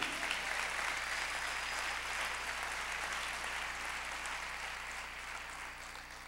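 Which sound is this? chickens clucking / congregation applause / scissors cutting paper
congregation applause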